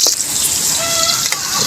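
Garlic and onion sauté in a hot pan, giving a steady close sizzle and crackle throughout, with a faint stir or scrape.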